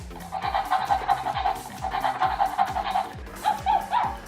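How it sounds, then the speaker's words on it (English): A small electronic dog toy barks repeatedly in quick bursts, with faint whirring between the yaps, close by. "And he's barking and he's wagging his tail."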